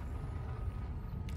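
A spaceship engine boost in Elite: Dangerous gives a brief, steady, loud rumbling whoosh with a dense low roar throughout.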